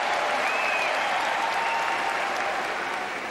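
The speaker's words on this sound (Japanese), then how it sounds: "まずは大きな歓声を浴びてレイセフォーです。" A big arena crowd at a K-1 kickboxing event cheers and applauds steadily for kickboxer Ray Sefo, a dense, loud roar of clapping and shouts that holds throughout and eases slightly at the end.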